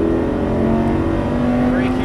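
A Lamborghini Superleggera on a racetrack held at full throttle, a loud, dense, sustained engine roar with a steady high drone, heard from inside the car with a voice speaking over it.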